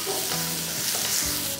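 Onion, green chilli and curry leaves fry and crackle in hot oil with a steady close sizzle, broken by a couple of stirring scrapes in the pan.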